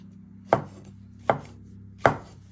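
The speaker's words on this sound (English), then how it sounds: "you just want to cut them down the middle, and then you just want to slice them into pieces" Three evenly spaced knife chops through mushrooms on a cutting board, each one a crisp, close thunk over a faint background hum.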